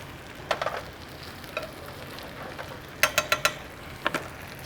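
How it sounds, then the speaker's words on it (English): Butter breaking up and sizzling in a non-stick pan over medium heat, with soft crackling bursts and a few sharper pops against a quiet steady frying hiss. "I got a non-stick pan, and I'm just gonna take the rest of this butter and I'm just gonna kind of break it up in there."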